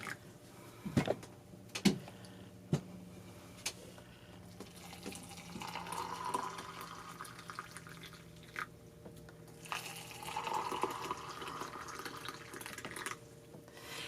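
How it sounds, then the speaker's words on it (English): Hot water pours and splashes into canning jars, a steady running trickle with a few sharp clinks of glass near the start. "we're going to fill our jars with the hot water right to the neckline"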